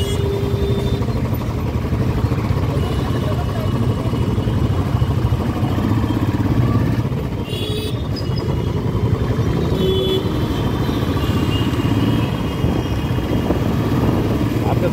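Motorcycle engine drones steadily while riding through traffic, a loud continuous hum and wind rush with a brief dip midway.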